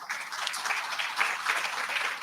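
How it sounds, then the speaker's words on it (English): A summit audience gives a panel a short round of steady applause, a dense wash of many hands clapping at even loudness throughout. "A round of applause for our panel"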